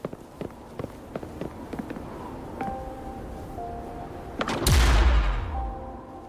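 A tacitite fulminate explosion blasts an opening in a disk in Wuthering Waves. Light rhythmic footsteps lead up to it, then one loud, close boom bursts and decays into a rumbling tail.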